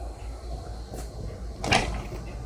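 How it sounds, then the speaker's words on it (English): A door to the forward cockpit of a 2017 Leopard 45 catamaran opens with a short rattle followed by a louder sliding clunk, close by over a steady low background hum. "And then here, this door opens"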